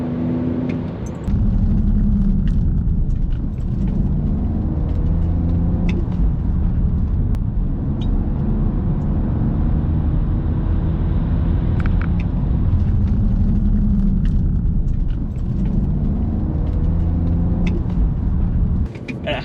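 A BMW E46 engine drones steadily from inside the rear-wheel-drive car while driving, a loud low rumble with a swell of acceleration partway through and road noise underneath.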